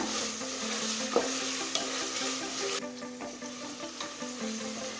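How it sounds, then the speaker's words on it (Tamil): Vegetables for vegetable pulao are sautéed and stirred in a hot pan, giving a steady sizzle with scraping stir strokes and a few sharp clinks, continuous and close throughout. "காய்கறியை நல்லா ஒரு 2 நிமிஷம் வரைக்கும் வதக்கிக்கோங்க"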